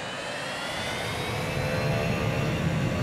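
A jet airliner in the Transport Fever video game roars steadily at full thrust through its takeoff run, a loud, continuous engine rush with no talking.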